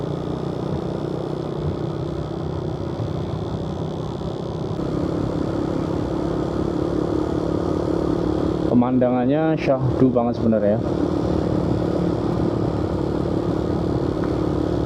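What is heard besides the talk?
old Yamaha Vega motorcycle climbing uphill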